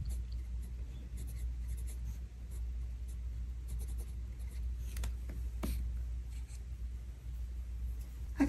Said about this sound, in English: so I'm gonna write that right here.